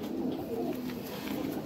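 Pigeons coo softly in a loft in Oklahoma, a steady low murmur of several birds overlapping with no clear breaks, fairly close and continuous.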